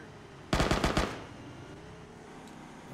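Automatic gunfire in the military video game Arma: a single loud, rapid burst of about five or six shots lasting roughly half a second, then quiet ambience, with another noise starting at the very end.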